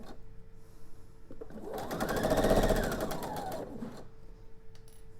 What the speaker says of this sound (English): we're going to go ahead and sew this seam